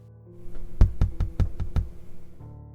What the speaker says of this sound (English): just that soft knock